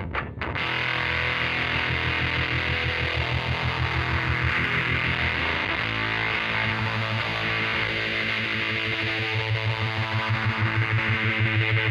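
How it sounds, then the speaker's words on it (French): Electric guitar played through a distortion effect whose bias is swept by an expression pedal and an external LFO, a loud, thick, buzzing sustained tone that pulses rhythmically throughout, with no voices. "la pédale d'expression est reliée au paramètre de bias de la distorsion, qui est en plus modulée par un LFO externe"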